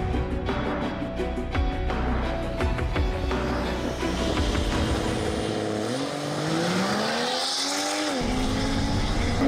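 A Volvo V60, either the Hybrid or the all-wheel-drive Polestar, launches hard and accelerates on a race track, its engine note climbing steadily and loud, with a brief tire squeal near the end.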